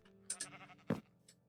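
Sheep in a video game bleat twice in quick succession, short nasal calls heard close and clear with no talk.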